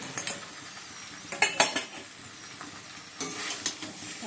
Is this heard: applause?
no